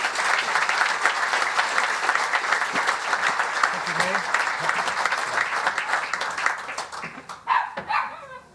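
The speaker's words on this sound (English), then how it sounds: "thank you very much for that enthusiastic applause from there" Enthusiastic applause fills an Australia Day awards ceremony, a busy, sustained clatter of clapping hands that thins out near the end, where a few louder claps and faint voices stand out.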